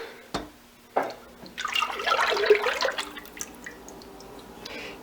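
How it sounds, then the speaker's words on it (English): Olive oil poured into a container of melted coconut oil for castile soap, a soft liquid trickle and glug swelling for a couple of seconds after a few knocks, then fading to quiet. "So now I'm going to add my olive oil."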